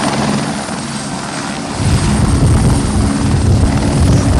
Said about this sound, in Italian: Sta arrivando di nuovo a caricare l'elicottero in questo momento.